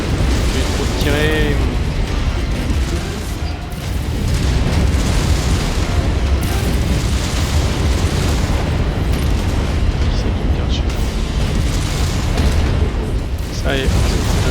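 LB10 autocannon fire and explosions in the MechWarrior 5 Mercenaries video game: a continuous, loud wall of booming blasts and battle noise that never lets up, with someone talking over it.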